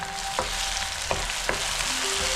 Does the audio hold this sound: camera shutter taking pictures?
no